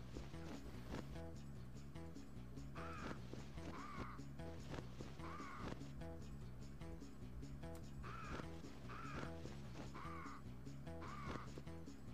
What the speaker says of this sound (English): I'm constantly hearing crows